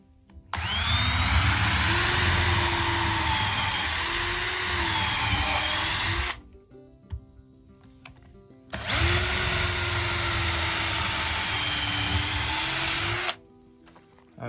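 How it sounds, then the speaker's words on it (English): A power drill whines loudly and steadily while pre-drilling holes through the end of a wooden joist for a chicken coop, in two long bursts with a short pause between them. "what I'm actually working on is pre-drilling some holes through the end of the joist"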